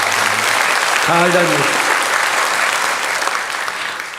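A congregation at a Sunday morning church service applauds with steady, dense clapping, and a voice briefly speaks over the sound early on.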